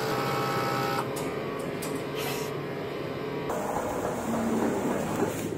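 Large-format printer printing a tarpaulin banner, a steady mechanical whir with repeated carriage passes and shifting tones, close and continuous with no talk.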